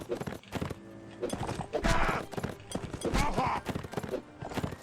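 Horse hooves clip-clop in a rapid, uneven rhythm during mounted combat in Mount & Blade Warband, mixed with bursts of clashing battle noise and occasional voices, loud and busy throughout.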